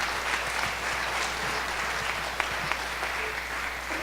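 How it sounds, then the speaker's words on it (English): A year-end banquet audience applauds community partners. The clapping is steady and fairly loud and fills the room, with a few sharper claps standing out. "Let's give them a round of applause,"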